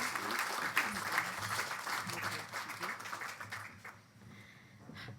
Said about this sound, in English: So please give a big round of applause for Jackie Agius.